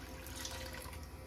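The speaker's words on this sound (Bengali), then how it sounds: "একটু জল দিয়ে নিলাম" Water runs steadily into a cooking pot in a home kitchen where potatoes, dal and chicken are being prepared, a continuous close splashing pour lasting about a second with no voices.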